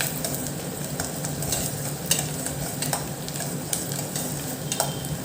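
Garlic, about ten cloves, sautés in a pan for an anchovy fish curry, giving a steady close sizzle with scraping stir strokes and occasional clicks of a utensil against the pan.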